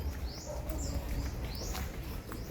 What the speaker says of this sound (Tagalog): Marinig mo yung mga huni ng ibon.